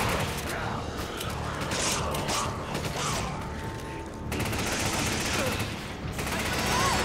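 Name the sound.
enemy gunfire in the video game Resident Evil 5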